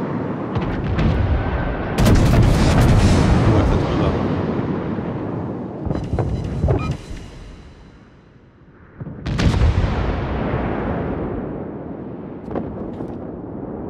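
Naval guns fire in the warship battle game World of Warships, several heavy booming salvos with long rumbling decays, loud and close, spaced across the stretch with quieter gaps between.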